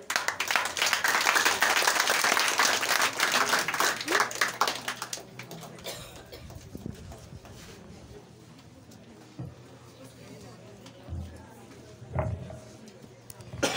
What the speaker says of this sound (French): Vos applaudissements ne sont pas forts.